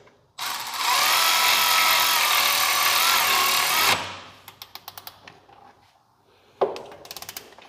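A power tool whirs steadily for about three and a half seconds while tightening the oil drain plug on an Exmark Staris stand-on mower, then stops. A series of short clicks and ratcheting taps follows, with a brief burst near the end.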